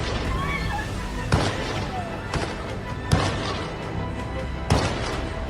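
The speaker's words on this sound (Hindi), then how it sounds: "लगातार गोलियों की आवाज सुनाई" Gunshots during an attack on Sydney's Bondi Beach, four sharp distant cracks spaced over several seconds above a constant wash of crowd noise and commotion.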